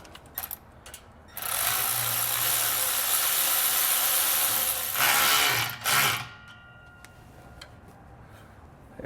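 Ring clamps are tightened with a power driver on Air Lift LoadLifter 5000 air helper springs, a steady buzzing whir of about four seconds that surges briefly before stopping.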